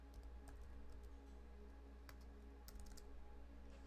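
A computer keyboard clatters with quick, irregular keystrokes, faint and close, in bursts separated by short pauses, with no one speaking.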